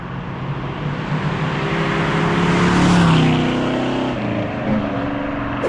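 A 1973 Plymouth Duster with a 340 V8 and four-speed manual cruising around 60 on radial tires, its steady engine drone swelling louder midway then easing back, with a brief shift in pitch late on.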